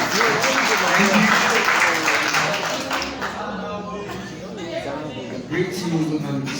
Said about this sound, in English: Let's clap for the brother as he comes up here.